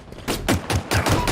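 Rapid burst of gunfire in Halo Infinite, a string of close, loud shots fired in quick succession with an even rhythm.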